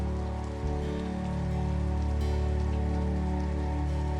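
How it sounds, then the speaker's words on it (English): Steady rain falls outside a window as a continuous soft hiss, blended beneath a sustained, droning musical pad with no talking. "As steady as the rain beyond the window."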